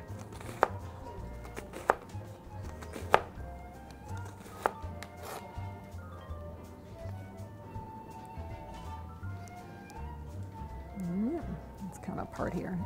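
A knife slices through a red onion on a cutting board, a handful of crisp, separate cuts spaced a second or so apart beneath steady talking.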